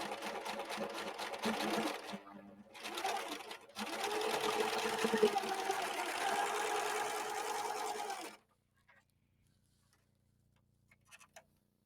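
Husqvarna Viking overlock machine sewing a blind hem in fabric. It gives a fast, even mechanical stitching rattle close by, pauses briefly near the start, resumes, then stops, leaving near silence with a few faint clicks.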